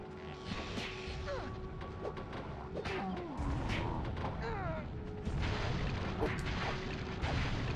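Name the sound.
explosion of a character blowing himself up, Spyro video game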